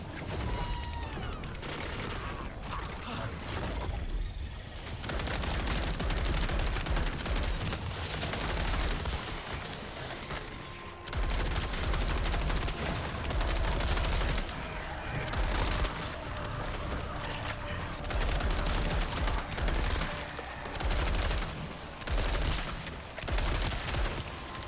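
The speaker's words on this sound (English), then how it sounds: "started shooting up some vines, getting rid of them" Sustained rapid gunfire in the co-op shooter Toxic Commando as players shoot up overgrown vines, loud and nearly continuous for the whole stretch, with dense bursts, brief lulls and heavy low rumble.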